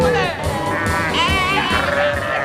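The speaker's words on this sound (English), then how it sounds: "Oh yeah, sheep. Lots of sheep." Sheep in a rural setting bleat loudly and repeatedly, with wavering calls overlapping one another at close range.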